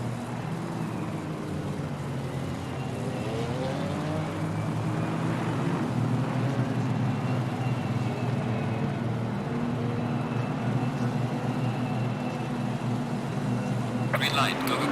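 Race cars in Assetto Corsa Competizione launching from a standing start at Suzuka during a championship round, engines droning and rising together in a steady, dense roar, with voices heard over the top.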